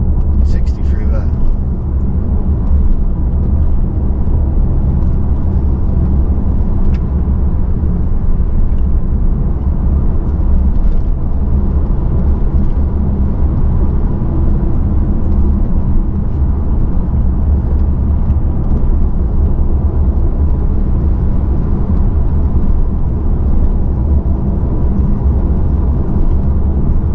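An electric car drives along a backroad, its cabin filled with a steady low road rumble and tyre noise that stays even throughout, while someone talks over it.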